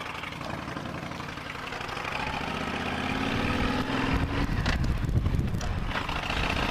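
A motorcycle engine idles in neutral on a ride out to a demo day, a steady low rumble that grows slightly louder with some wind and road noise layered over it.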